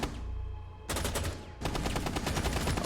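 UMP submachine gun fire in a Rainbow Six Siege competitive match, with a sustained rapid automatic burst, a short pause, then another fast continuous burst, loud and close.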